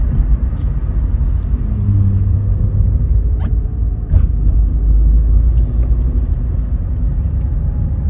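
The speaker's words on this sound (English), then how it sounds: "Actually very, very quiet car." A 2004 Vauxhall Corsa C engine hums steadily from inside the cabin while driving, a smooth low rumble with faint light clicks and no rattles.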